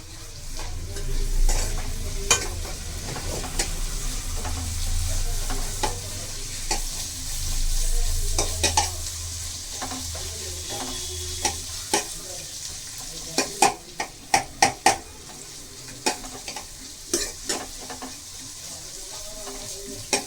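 Onions fry in plenty of oil for lemon rice, a steady sizzle under repeated stirring, followed by a cluster of sharp clacks of the spatula against the pan, then quieter sizzling.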